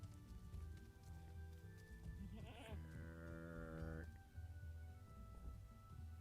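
Goat bleat from the farm animal video game River and Sea, a wavering harmonic call of about a second and a half, heard over a steady game music bed with someone talking across it.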